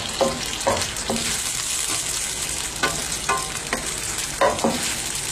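Boiled chicken tossed into a pan with soy sauce for a chicken and vegetable macaroni, frying with a continuous loud sizzle and rhythmic scrapes of a spatula stirring it.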